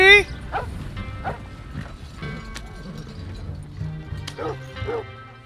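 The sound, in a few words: puppy barking in video game Red Dead Redemption II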